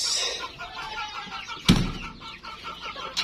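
Newly hatched chicks and chickens on a farm make soft chirps and clucks close by. One sharp, louder squawk stands out midway.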